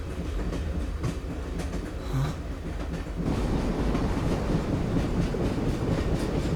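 A train passes in the video game Persona 3 FES, a dense steady rumble of wheels and carriages that swells louder midway and holds, with faint clacking and no talking.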